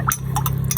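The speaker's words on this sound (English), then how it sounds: "I'm gonna pour some beef stock." Beef stock mixed with hoisin sauce poured into an Instant Pot, a short close run of glugging splashes over a low steady hum, with no talk.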